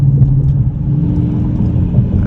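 A 2022 Dodge Challenger R/T with a manual gearbox pulls hard in second gear, a loud, close, steady low engine rumble under load with no talking.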